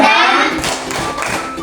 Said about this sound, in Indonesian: Kita coba tepuk semangat Pak.